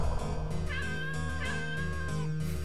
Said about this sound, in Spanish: Ojo de dragón, suena meow, suena un gato.